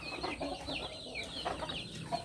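Young hens and pullets in a flock give a run of close, overlapping clucks and soft chatter, steady and fairly loud throughout with no voices.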